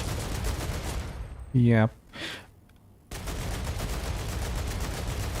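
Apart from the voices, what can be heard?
gunfire from a gun in the video game StarRupture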